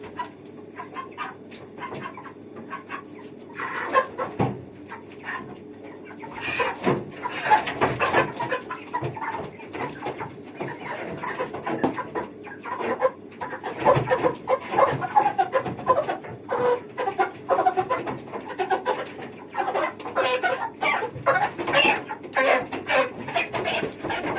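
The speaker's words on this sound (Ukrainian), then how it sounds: "то був півень" Broiler chickens cluck and chatter continuously in a poultry house, with a rooster among them, the busy murmur growing denser and louder over the length of the clip.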